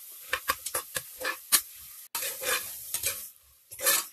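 Onions and tomatoes frying in a pan for a vegetable biryani, stirred with a utensil: repeated scraping stir strokes over a steady close sizzle, with no talking.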